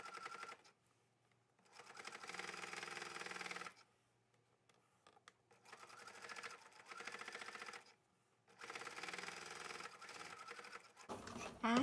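A sewing machine stitching fabric for a triangle pouch, running in three bursts of rapid, steady mechanical whirring separated by quiet pauses, close and fairly faint.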